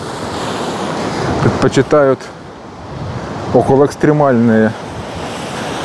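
Strong wind buffets the microphone on a beach in Anapa as stormy sea waves roar in a constant wash, with someone talking over it.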